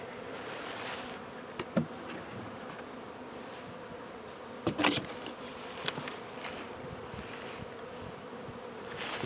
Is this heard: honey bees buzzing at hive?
yes